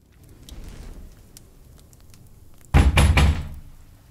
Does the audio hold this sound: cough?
no